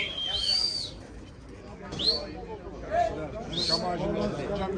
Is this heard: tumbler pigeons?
yes